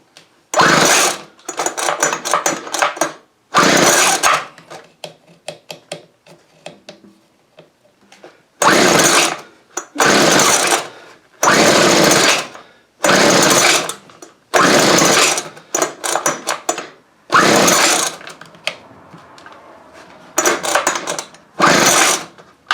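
Small two-stroke engine of a Weed Eater XT600 string trimmer being started: a series of loud bursts of buzzing revving, each a second or two long, separated by short quiet gaps, close up with no talk.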